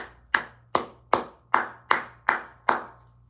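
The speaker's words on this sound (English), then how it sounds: "clapping" One person claps seven times, close to the microphone. The claps are sharp and evenly spaced at a slow, steady pace, with quiet between each one.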